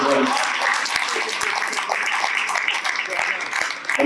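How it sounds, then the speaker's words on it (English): Wedding guests applauding at a reception, a crowded wash of clapping and cheering voices with a few sharp nearby claps, steady and fairly loud throughout. "Give him a round of applause."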